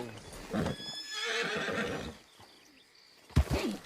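Red Dead Redemption 2 horse whinnying loudly and close, with hooves clip-clopping alongside, then a sharp snort or second call near the end.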